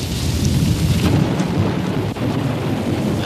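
A thunderstorm on open land, with steady heavy rain and low rolling thunder rumbling continuously, loud and enveloping, plus a brief sharper crack near the middle.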